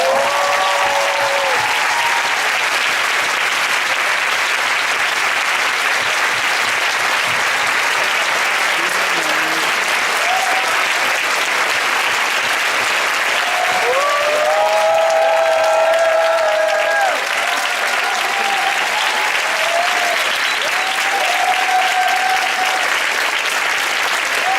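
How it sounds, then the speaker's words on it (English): An audience at a youth business forum applauds steadily for the whole stretch, a dense, sustained clapping that swells briefly midway, with faint voices beneath. "So a big round of applause for Andrea Hiraldo"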